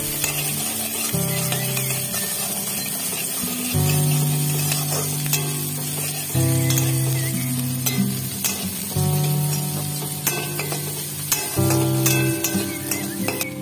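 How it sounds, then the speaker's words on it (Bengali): Flower petals and grains frying in hot oil in a wok, a loud steady sizzle with repeated scraping and stirring clatter running throughout, close and continuous with no talk. "এবার শস্যগুলো যখন কিছুটা লাল লাল হয়ে আসবে তখন এই ফুলের পাপড়িগুলো দিয়ে ভালো করে নাড়াচাড়া করে নেব"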